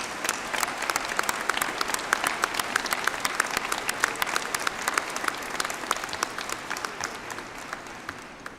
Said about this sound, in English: give them a hand of applause.